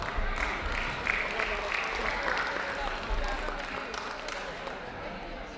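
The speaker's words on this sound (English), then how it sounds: "Please give another round of applause to Mr. Muhammad Sharif Alatas." An audience claps at a Ramadan festival presentation after a speech ends. Dense, continuous applause runs throughout at moderate loudness, with a voice faintly audible beneath it.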